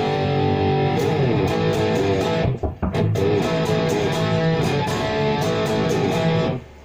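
Electric guitar played through a distortion pedal on a 3-in-1 guitar effects unit, sustained overdriven chords ringing loud and steady with a brief choppy break midway, no talking.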